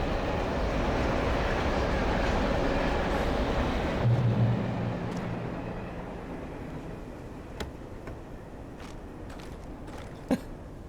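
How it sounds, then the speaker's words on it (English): A train rumbles past in the video game Alan Wake Remastered, a loud, steady, dense roar for about four seconds that then fades to a quieter hum, with a few faint clicks and knocks afterward. "I hear a train."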